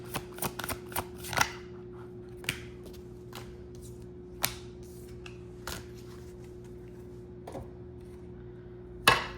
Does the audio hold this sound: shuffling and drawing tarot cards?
yes